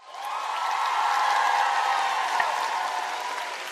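A studio audience applauds a guest with a sustained wave of clapping that swells and then slowly fades, moderately loud.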